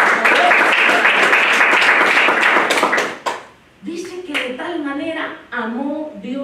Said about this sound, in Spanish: Denle un aplauso a esa gran palabra.